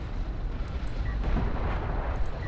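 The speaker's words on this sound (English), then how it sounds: "Here comes a cruise missile shot." A cruise missile shot in a real-time strategy video game lands as a low, rumbling blast with a muffled, eruptive roar, moderately loud and heard without any speech.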